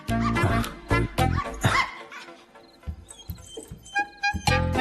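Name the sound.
dog barking and whimpering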